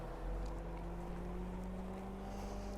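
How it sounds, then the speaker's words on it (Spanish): A car's cooling fan runs in hot weather on a 4x4 off-road test, either a Land Rover Defender 90 or a 2021 Jeep Wrangler Rubicon, as a steady low hum with a constant tone. "Hace muchísimo calor, así que el ventilador está sonando"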